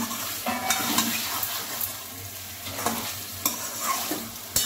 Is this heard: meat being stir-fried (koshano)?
yes